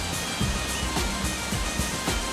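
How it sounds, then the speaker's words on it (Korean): Steady roaring rush of a waterfall pouring off a mountain over an overhanging rock ledge in karst terrain, loud and continuous, with a broad hiss and low rumble throughout, no voices. "저 산에서 흘러내리는 폭포가 여기 바위를 지나서 일로 떨어지는 거네요"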